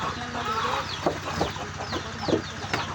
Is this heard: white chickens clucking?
yes